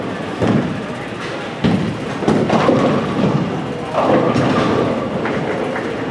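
Ten-pin bowling ball crashing into pins at an AMF bowling center during a final shootout, a loud clattering impact with rolling rumble and crowd noise in a big reverberant hall.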